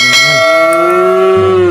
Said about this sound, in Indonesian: suara sapinya ada di sini